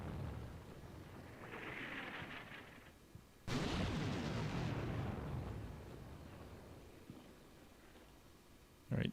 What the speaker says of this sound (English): No, they're just rounds incoming.